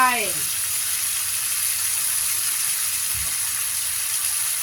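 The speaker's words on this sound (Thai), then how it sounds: "ใส่น้ำลงไปเคี่ยวนะคะ" Water poured into a hot pan of tomato-sauce meatballs so it can simmer, giving a short sizzle at first that settles into a steady steamy hiss, close and continuous.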